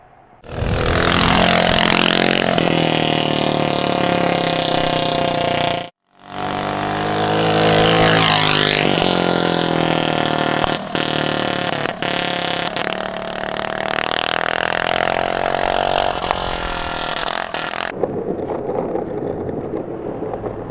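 A drift kart engine runs hard and revs loudly and continuously up close, cutting out briefly around six seconds before roaring back, then dropping to a rougher, quieter idle near the end.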